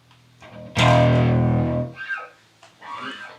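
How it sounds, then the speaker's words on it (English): A thick, distorted bass guitar note rings out loudly and sustains, followed by a few shorter, quieter plucked notes with a gritty edge. "let me just pop on my distortion"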